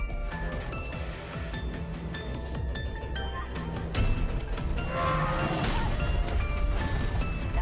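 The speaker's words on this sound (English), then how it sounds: "When the two of them ran out of the building, the nearby crane was about to collapse too." In a sci-fi disaster movie scene of a meteorite strike, a crane collapses amid falling debris: dense, continuous crashing and rumbling that swells louder partway through, with scattered sharp impacts.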